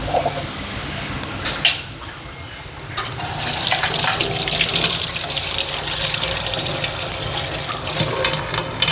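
Running water gushes steadily into a kitchen sink and drains, a continuous splashing rush close by, preceded by a few brief knocks and clatters.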